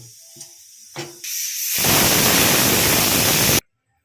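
A pressure cooker whistle: a loud, steady hiss of escaping steam begins after a few soft knocks and holds for nearly two seconds before stopping abruptly.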